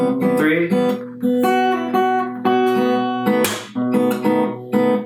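Acoustic guitar played fingerstyle in a steady rhythmic groove of a remix verse, with plucked bass notes and chords repeating in a looping pattern, close and clear.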